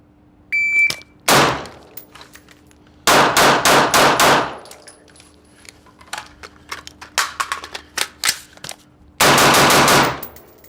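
Rapid gunshots ring off steel targets during a timed shooting drill, arriving in three loud bursts of fast shots with sharp metallic clangs and ringing decay between them.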